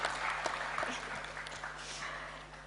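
Applause from the audience at a premiere of The Lord of the Rings: The Rings of Power, a fairly quiet, scattered clapping with a few sharper claps that fade slightly toward the end.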